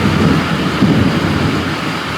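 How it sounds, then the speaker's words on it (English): Heavy rain pours steadily with a deep, rumbling undertone of thunder, loud and continuous, with no voices. "But it's storming bad here. I'm sure you guys can hear it."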